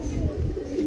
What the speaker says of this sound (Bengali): বাট এটা চেন্নাইয়ের পায়রা